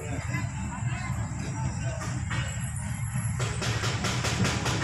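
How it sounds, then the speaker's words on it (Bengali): A train passes without stopping while traffic waits at a blocked rail crossing. A low, steady rumble builds into rhythmic wheel clatter near the end, with murmuring voices in the background. "এই ট্রেন তো একদম থামে না"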